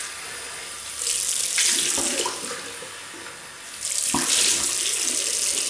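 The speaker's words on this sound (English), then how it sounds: "Hot water, beautiful." Hot water pours from a tap into a sink in two loud, close bursts, with a softer stretch between them as the flow changes.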